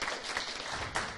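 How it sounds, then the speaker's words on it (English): A short burst of audience applause at an academic ICT4D seminar, moderately quiet and continuous, with a few sharper swells toward the end. "Second big round of applause for Richard Hicks."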